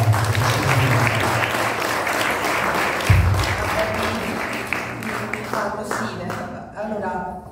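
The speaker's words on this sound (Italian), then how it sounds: "la introduciamo con un fragoroso applauso" A loud, steady round of applause from the audience at a book presentation, dense clapping filling the room with some murmured voices underneath.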